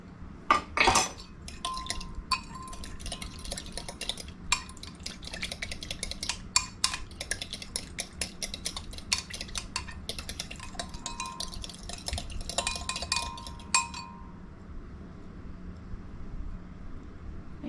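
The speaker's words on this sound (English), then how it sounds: "let's whisk that up and then we'll transfer it" Carrot salad dressing is whisked in a bowl, making a rapid, busy run of close metallic clicks and scrapes that stops abruptly near the end.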